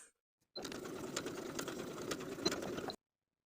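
A sewing machine stitches fabric facings along a blouse's bottom edge, running steadily for about two and a half seconds with a faint rattling whir before stopping abruptly, alone and fairly quiet.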